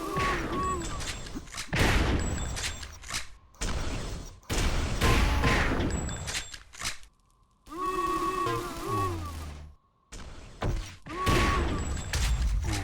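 Rapid bursts of rifle and machine gun fire from a shooter video game tournament match, sharp repeated volleys with brief gaps, loud and close, with explosive booms mixed in.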